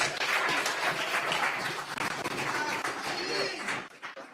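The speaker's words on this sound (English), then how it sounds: "Please give Mr. Mark Golding another round of applause." Audience applause fills a town hall meeting on hurricane recovery, a steady dense clapping from the crowd that holds throughout and thins out near the end.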